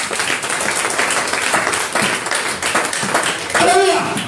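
Congregation at a French-language evangelical church service claps and cheers for Jesus, a dense, steady wash of applause and voices lasting throughout, with some talk mixed in.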